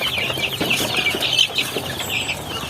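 Chickens and chicks in a pen cluck and peep continuously, a busy close cluster of overlapping calls with no speech.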